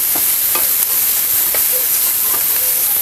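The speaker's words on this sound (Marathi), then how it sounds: "कांदा टमॅटो डोबळी मिरची वगैरे चांगलंच आपल्याला आहे ना हे परतून घ्यायचं आहे" Chopped onion, tomato and capsicum saute in a hot pan, producing a loud, continuous sizzling hiss with faint scattered stirring ticks, close up and without voices.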